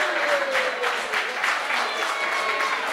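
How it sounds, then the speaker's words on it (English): A wrestling event crowd roars and claps in a steady, dense wash of noise, with no clear pauses throughout. "And listen to this crowd."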